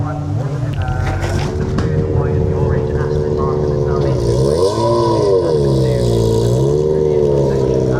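Race cars pull out onto the track during a track day, their engines rising and falling in pitch as they rev and shift nearby, loud and continuous, with people talking at points over the noise.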